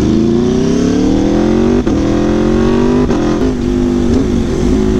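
A motorcycle with a semi-automatic gearbox accelerates hard, its loud close engine note climbing steadily with brief dips at two or three gear changes, continuous and alone without speech.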